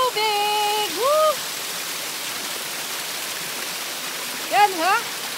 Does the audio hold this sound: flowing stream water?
yes